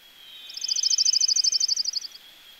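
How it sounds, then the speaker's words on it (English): An orange-crowned warbler sings a fast, high, trilled phrase of about thirty even notes, rising slightly and then fading at the end, clear and alone against faint background hiss. "the orange-crowned warbler"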